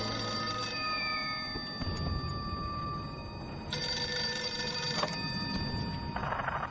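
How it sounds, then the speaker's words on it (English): A telephone that is not connected rings in repeated electronic trills, loud and close, continuing in bursts with a brief shift in tone partway through and no talking over it. "How can it be ringing? It's not even a real phone."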